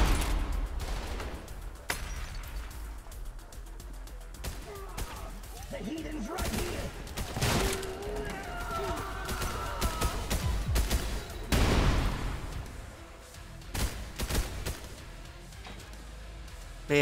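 Dual-wielded shotguns blasting in the shooter Trepang2, heavy booming shots repeating at irregular intervals amid clattering combat, with someone talking over the gunfire.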